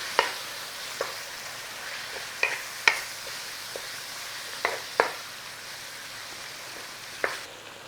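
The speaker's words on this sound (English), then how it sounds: "So cook out the obligatory water from the mince and get a little bit of colour on." Ground mince frying in a pan to cook off its water and brown, with a steady low sizzle broken by scattered sharp scrapes and clacks of stirring at irregular intervals.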